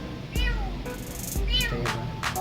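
A cat meows loudly several times in quick succession, close up, with a faint voice and background noise underneath.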